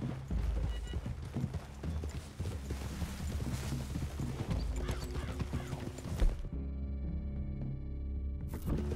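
Horse hooves clop steadily on the ground in the video game Red Dead Redemption 2, a close, rhythmic plodding over a low ambient hum, ending with a quieter tonal stretch.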